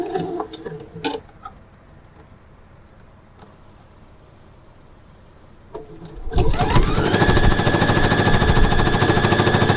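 A sewing machine runs a continuous straight stitch at a steady, fast rhythm, loud and close, beginning partway through after a few quiet handling clicks and fabric rustles.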